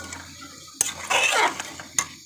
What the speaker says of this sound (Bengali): এখানে যতটুকু দই ছিল সবটুকু আমি এখানে ঢেলে দিচ্ছি এবং এটা আমি বেশ কিছুক্ষণ কষাবো